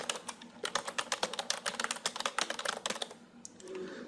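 Rapid typing on a computer keyboard, a quick irregular run of close, crisp key clicks that carries on for several seconds before easing off, with no voices.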